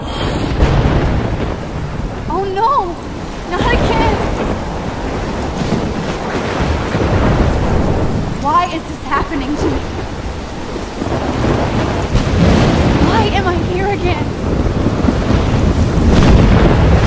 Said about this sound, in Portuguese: estamos aqui a tempestade do começo do jogo